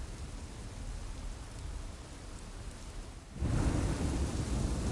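A nighttime thunderstorm with heavy rain from the game Kingdom Hearts Union χ: a dense, continuous rain hiss with a low thunder rumble, swelling louder in the last couple of seconds.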